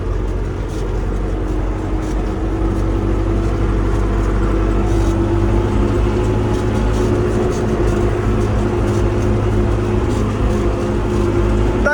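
An MTZ-82 tractor driving itself on autopilot across a field, its diesel engine running with a loud, constant low drone and a steady humming tone throughout, no voices.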